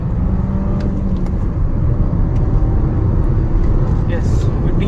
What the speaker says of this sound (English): Right now it's a quick overtake, just put it in second